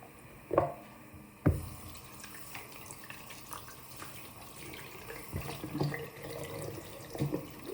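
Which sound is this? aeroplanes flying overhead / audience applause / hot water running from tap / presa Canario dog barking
hot water running from tap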